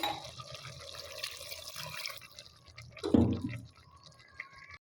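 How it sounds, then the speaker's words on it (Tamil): Water is poured into a pressure cooker pot for country chicken curry in a brief, splashy gush, with quieter trickling and dripping sounds before and after. "சேர்த்துட்டு இப்போ தண்ணி சேர்த்துக்கிடலாம்"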